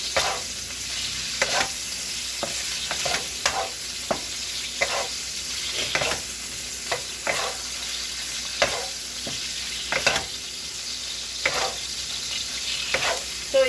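Shrimp frying in a pan, a steady sizzle broken by repeated sharp scrapes and clicks of stirring at a loose rhythm, close and fairly loud with no voices.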